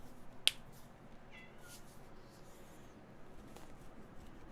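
A house cat gives a short meow over a quiet room background, with a sharp snap-like click just before it and a few faint high chirps after.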